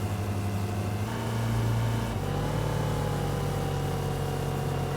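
A vehicle engine in the Badlands Crew video game drones steadily, with a low hum whose pitch shifts in small steps as it drives ahead, continuous and close with no voices.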